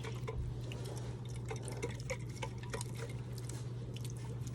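Beef broth pours steadily into a pot for a home-cooked pot roast, a soft continuous liquid trickle and splash with small drips, fairly quiet over a low steady background hum.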